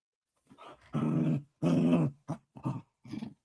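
A young dog growls and whimpers in several short bursts, close and fairly loud, with brief pauses between the rough, throaty sounds and no talk over them.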